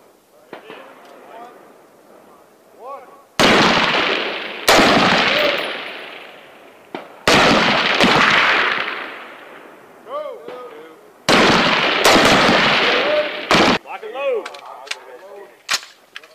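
M4 rifles fire on a U.S. Army qualification range in loud, sharp clusters of rapid shots, each burst echoing off into the distance, with soldiers talking in the quieter gaps between volleys.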